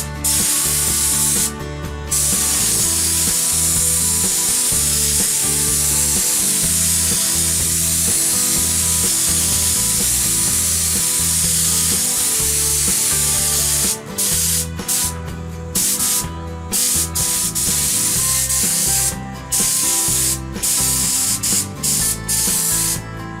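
Spray gun shooting clear coat over a scuffed car body panel during a paint blend repair, a steady loud hiss running continuously with brief breaks as the trigger is released and pulled again.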